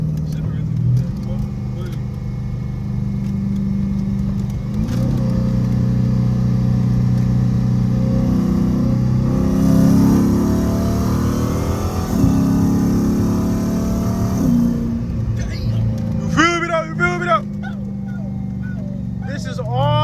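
Engine of a 2nd gen swap Dodge Charger revving hard during a pull in a controlled area, a loud sustained roar rising and falling for most of the clip, with a short squeal near the end.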